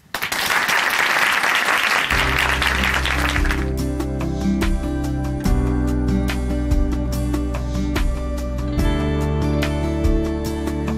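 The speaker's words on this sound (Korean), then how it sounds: "박수로 모십니다" Audience applause welcomes a guest at a church testimony broadcast, a dense burst of clapping for about two seconds that then gives way to music playing on under fading claps.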